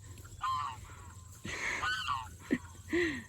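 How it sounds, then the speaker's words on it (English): Geese on a sheep farm honk back and forth, a handful of separate nasal calls spread over a few seconds, moderately distant. "The geese are talking to each other from across the farm."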